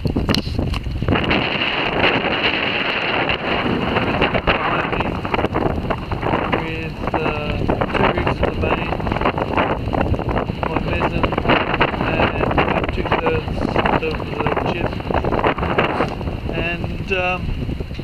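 Strong wind buffets a Rob Roy 23 sailboat, producing loud, constant wind roar and microphone gusting throughout, with someone speaking over it.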